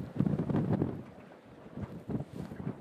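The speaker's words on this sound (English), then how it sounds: "That's a big gust." Strong wind gusts buffet the microphone during a hydrofoil race on open water in Australia, a loud rushing roar that surges early, eases and then swells again.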